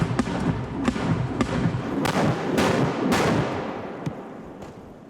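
Mortar or large caliber weapon explosions at a medical staging post in the Ukraine war, several dull booming thuds spread across the clip with a rumbling, crackly background and no talk.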